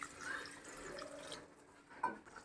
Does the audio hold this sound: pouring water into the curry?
yes